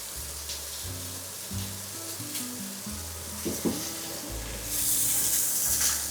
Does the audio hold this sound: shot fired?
no